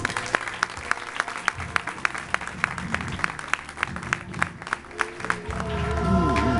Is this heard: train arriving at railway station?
no